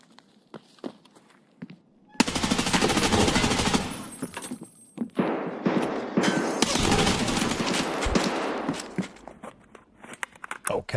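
Gunfire and movement in the video game Escape from Tarkov come in bursts, with rapid shots and clatter after a quiet start, interrupted by gaps and faint thuds.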